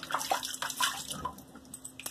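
Running water splashes faintly from a tap as shaving soap is rinsed off, with soft, uneven spatters and drips at low volume.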